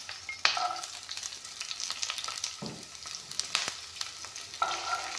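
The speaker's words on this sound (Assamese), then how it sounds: "এইখিনি অলপমান ভাজি ল'ম।" Onion, ginger, garlic and green chilli frying in a pan make a steady close sizzle, broken by a few sharp scrapes and clinks of a stirring spoon; no one speaks.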